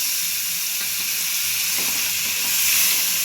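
Spice paste sizzling in a hot pan of oil for a Bengali pabda fish curry, a steady, loud hiss and crackle that runs unbroken, with faint stirring scrapes and no talking.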